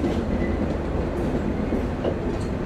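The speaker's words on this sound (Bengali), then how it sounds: "রাত ঠিক 1:45 আমাদের ট্রেন ছেড়ে দিল দর্শনা হল্ট থেকে" Steady rumble and rhythmic clatter of a passenger train running at night on the Shimanto Express between Chilahati and Khulna, heard from inside the carriage, loud and continuous with no talking.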